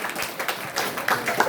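Audience clapping during a public lecture in Lonarwadi village, a steady patter of many hands lasting briefly, moderately loud and filling the hall with no voices over it.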